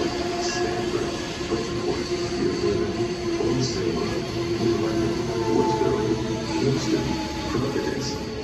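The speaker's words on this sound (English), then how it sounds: "Now arriving on track 1 is the Amtrak 1250 eastbound train" An Amtrak eastbound train pulls into Metropark station on the Northeast Corridor with a steady, loud rumble and intermittent wheel squeal.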